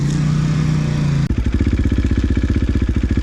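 A factory edition 450 motorcycle engine revs briefly, then drops into a steady, loud, close-up idle with an even, rapid thumping beat and no voices.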